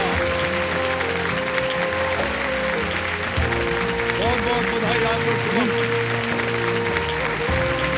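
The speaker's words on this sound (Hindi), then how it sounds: "सब लोग खड़े होकर ताली बजा रहे हैं" Studio audience on the KBC game show stands and applauds in a loud, sustained wave of clapping, with a host's voice speaking over it throughout.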